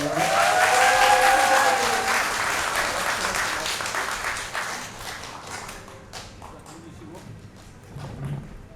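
Audience applause at a Korean cultural arts troupe concert in a hall, loud sustained clapping from a crowd that gradually thins and fades.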